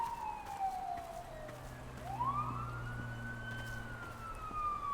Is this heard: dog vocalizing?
no